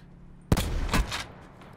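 Gunfire in the battle royale game Call of Duty Blackout during sniping: silence, then a sharp loud shot followed by a second blast and a fading rattling tail, close and alone.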